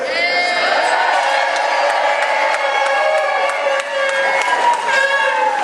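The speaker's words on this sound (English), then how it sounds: "Give them a cheer." A large union rally crowd cheers for uniformed prison officers, with loud, sustained whooping, shouting and clapping that stays dense and close throughout, scattered individual yells rising above the roar.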